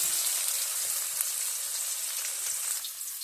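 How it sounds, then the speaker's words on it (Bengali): Chopped bottle gourd and potato fry in a wok with a steady, close, bright sizzle that runs evenly throughout, and no talking. "এই যে ভাজিটা এখন কড়াই দিয়েছি"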